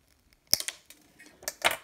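Small cutters snip excess handrail wire on an HO scale Con-Cor/Kato NW7 model locomotive, giving a few crisp close clicks spaced over a couple of seconds in an otherwise quiet room.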